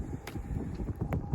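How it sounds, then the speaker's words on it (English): Gusty wind during a snow storm, with ice on the power lines, buffets the microphone as a continuous low, uneven rumble with a few brief brighter gusts. "It's freaking windy."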